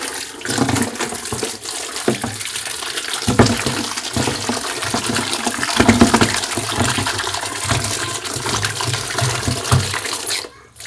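Ripe, slightly soft mangoes are rinsed under running tap water, a steady gushing stream with splashes and knocks as the fruit is handled, with no talking.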